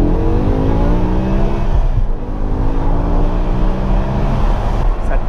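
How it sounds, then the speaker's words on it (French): A BMW M6 Competition with a 507 hp V10 revs hard under manual paddle shifting. The engine gives a loud, continuous, rising howl, with whining harmonics climbing steadily throughout. "et on entend le moteur."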